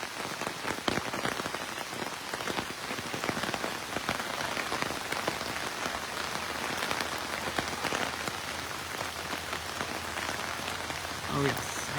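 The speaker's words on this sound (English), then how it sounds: "It is cold, it is rainy, the players are wet" Heavy rain falls steadily outdoors on a cold day, a dense, continuous hiss of drops on surfaces, loud and unbroken, with no talk over it.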